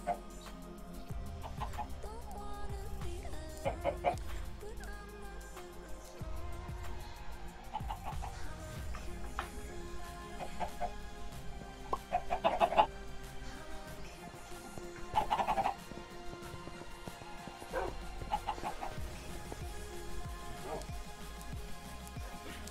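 Chicken clucks from Minecraft StoneBlock 2 pop up in short bursts over a busy game soundtrack and background clatter, mixed beneath other sounds.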